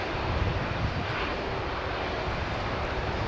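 A Boeing Dreamliner arriving from Honolulu at Dallas/Fort Worth gives off a continuous broad jet roar, loud and steady for the whole brief stretch, without talk.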